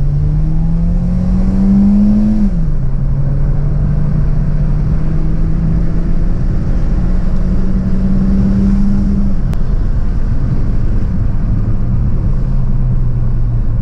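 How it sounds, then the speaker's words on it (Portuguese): A Peugeot 408 with the AL4 automatic gearbox accelerates at full throttle from 0 to 100, its engine note rising steadily, dropping sharply at each gear shift, then climbing again, loud and continuous from inside the cabin. "Pé full no acelerador."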